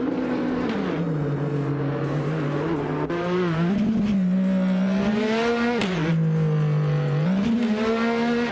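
A 2012 race car in a racing video game: a loud, close engine drone that rises and falls with gear changes and throttle lifts, with hints of tire squeal.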